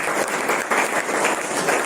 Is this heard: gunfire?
no